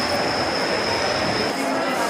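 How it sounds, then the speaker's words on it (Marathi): A train standing outside a station, heard as a steady, loud broadband rumble with a sustained high whine running through the whole stretch and no speech over it. "इथे बसला आहे ट्रेन लागलेली आहे बाहेर"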